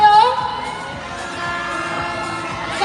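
Loud crowd cheering and shrieking at the Ginoong Sta Rosa pageant finals night in Santa Rosa, a sustained roar with high excited voices and whoops filling the whole space.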